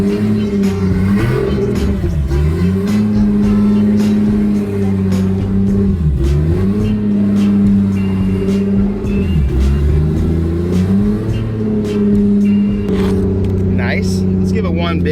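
Toyota Supra with a 2JZ engine fitted with a turbo kit, revving loudly and continuously with rising and falling engine pitch, heard from close by inside an enclosed space, with people talking over it.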